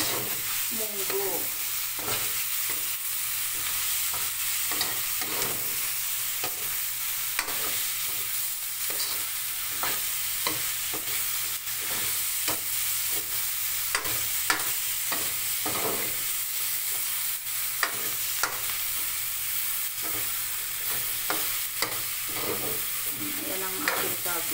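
Mung bean munggo with cabbage cooking in a pan, a continuous close sizzle with repeated scraping stirs of a utensil against the pan in an irregular rhythm.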